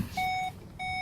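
A 2018/19 VW Golf GT sounds its ignition-on warning, two loud, clean electronic beeps with a short gap between them, heard close inside the car.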